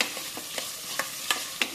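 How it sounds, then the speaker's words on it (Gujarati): Diced potato and carrot being stirred in a pressure cooker for veg pulao, a quiet sizzle under a handful of distinct spoon scrapes and clinks, unevenly spaced. "મસ્ત રીતે હલાવીને મિક્સ કરી દઈએ છીએ"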